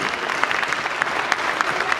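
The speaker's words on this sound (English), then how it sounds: "Give these guys a round of applause." Steady crowd applause at a comic convention welcomes law enforcement guests, dense and even throughout with scattered sharper claps.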